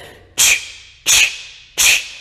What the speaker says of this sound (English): So for this breath, we're focusing on extreme exhales.